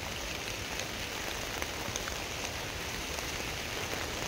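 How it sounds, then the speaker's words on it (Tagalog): Steady rain falls on a farm, a dense, even hiss of drops striking surfaces close by, with no voices over it. "So may ulan."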